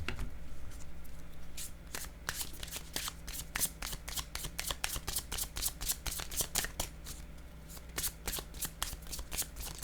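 A deck of playing cards is shuffled repeatedly in close, quiet riffles and crisp flicks over about ten seconds, with no talking.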